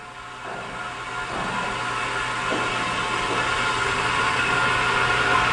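A SciTech 270-S wafer spin dryer spins at low RPM, around 600, giving a steady broadband whir and hum that slowly grows louder, with no voices.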